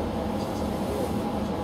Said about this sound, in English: I could outwalk this train right now.